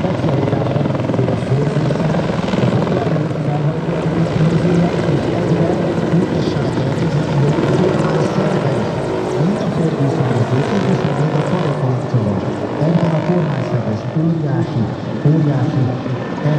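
An Mi-24 helicopter flies at an air show, its loud, continuous rotor thump and engine roar filling the whole stretch, steady and close.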